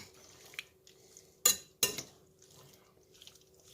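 Red beans are added to a bowl for bean salad: two sharp clattering bursts of beans tumbling in, with a few lighter taps and clinks around them in an otherwise quiet kitchen.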